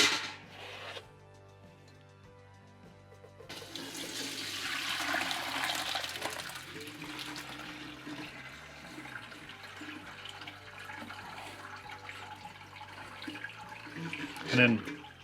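Liquid wort for a small-batch Belgian Tripel home brew is poured through a colander into an empty pot, a rushing splash that swells and then settles into a steady trickle, with a brief louder gush near the end.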